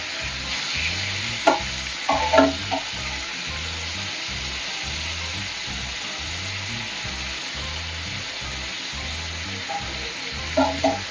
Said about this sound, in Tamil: இப்போ வந்து பன்னீர் வந்து ஃப்ரை ஆகிடுச்சு